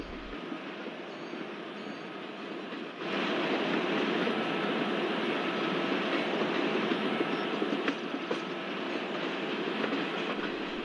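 The Kanyakumari Express runs on the Guntakal–Pakala route through forested hills, a steady close rolling roar of wheels on rail with faint clatter, growing louder after a few seconds and holding throughout.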